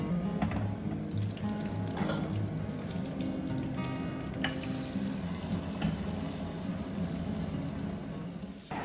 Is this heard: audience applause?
no